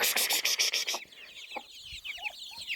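Hens cluck and squawk loudly in a farmyard near a turkey, a rapid pulsing burst of calls at first, then scattered softer clucks and scratching.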